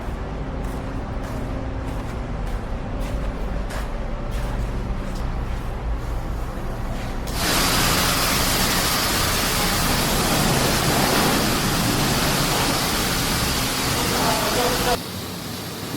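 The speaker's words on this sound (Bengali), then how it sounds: "বাইকটার প্রথম পানি মারতেছে," A pressure washer blasts water onto a dirty motorbike, starting as a steady engine drone with rhythmic pulses, then erupting halfway into a loud, continuous hissing spray that cuts off abruptly near the end.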